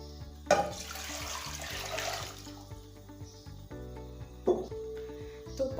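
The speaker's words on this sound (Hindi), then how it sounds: "मैंने यहाँ पर एक मीडियम साइज़ का बर्तन ले लिया है, उसके अंदर पानी ऐड करूँगी।" Water splashes into a medium-sized cooking pot, for boiling macaroni, in a close burst of pouring that lasts under two seconds, followed by quieter clinks and a second brief splash.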